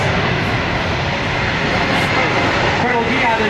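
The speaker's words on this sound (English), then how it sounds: "Colonel Diaz is now demonstrating slow flight." A C-17 Globemaster III military jet transport flying slowly during an air show demonstration, producing a loud, continuous, steady engine roar with no pauses.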